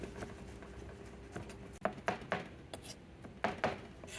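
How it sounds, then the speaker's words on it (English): Beef is cut thin with a knife on a board, a handful of crisp taps and chops after a quiet start, close and fairly faint. "Beef now, we're going to cut them as thinly as possible."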